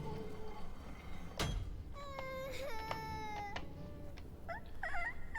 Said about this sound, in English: These little gnomes just sound like little kids crying all the time.